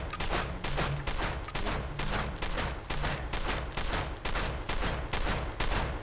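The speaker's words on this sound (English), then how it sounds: "A violent legendary effect on a shotgun, has a ton of kicks." A shotgun fires full auto in Fallout 4 in a rapid, even burst of about a dozen loud blasts over six seconds, with no voices.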